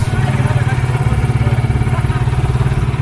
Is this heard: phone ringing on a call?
no